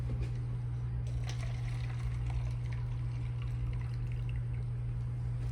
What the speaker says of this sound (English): I'm just gonna pour a few cups here